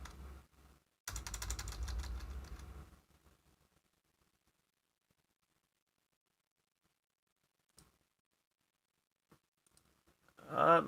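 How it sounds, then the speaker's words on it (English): Computer keyboard keys pressed for a Ctrl-Z undo: a dense burst of clatter near the start, then a few faint isolated clicks and one louder click at the end, with quiet gaps between. "I'm clicking Control-Z."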